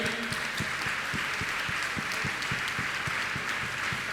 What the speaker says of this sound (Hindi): तालियां बहुत कम बज रही हैं।